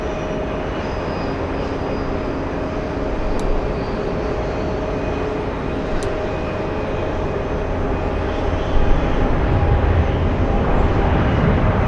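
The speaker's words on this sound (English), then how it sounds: "We have the British 777 on the roll." A British Airways Boeing 777 takes off at JFK, a loud broadband jet roar that holds steady and swells slightly toward the end, heard alone from nearby.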